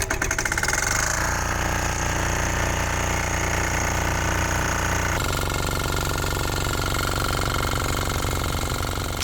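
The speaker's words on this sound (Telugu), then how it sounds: "సో ఇదైతే డీజిల్ వేసి మేము ఇంజిన్ అయితే స్టార్ట్ చేసాం." A diesel engine driving a farm water pump runs loud and close, a steady hard knocking chug with a slight shift in pitch midway, going continuously without pause.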